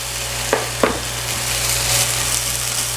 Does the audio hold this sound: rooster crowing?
no